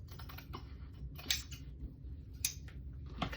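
Scissors trimming excess fabric from a kiss lock bag's lining, giving a few sharp snips and crisp cuts at close range over a low, steady background with no talk.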